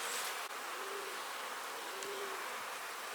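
Honey bees buzzing around a hive during bad weather, a steady dense hum filling the space without pause, with a couple of brief louder passes as individual bees fly close.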